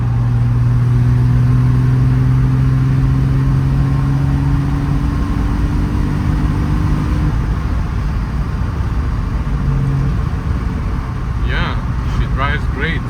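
A Triumph TR6 drives along with a steady engine drone and road noise filling the whole stretch, a few rising engine tones audible early on, and faint squeaks near the end.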